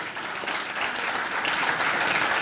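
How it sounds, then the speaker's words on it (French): Brief burst of applause from attendees at an auto-cross association general meeting in Badefols-d'Ans, steady dense clapping throughout, fairly close and loud with no talk over it. "Je pense qu'on peut l'applaudir."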